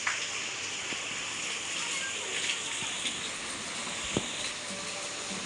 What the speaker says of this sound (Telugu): వర్షం పడుతుంది, బజ్జీ చేసుకుంటే బాగుంటుంది.